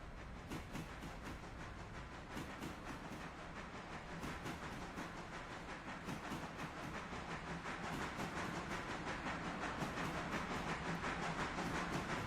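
A train runs in the railway game Railroader, a steady rolling rumble with rapid rhythmic clicking and hiss that grows slightly louder over time, no talk.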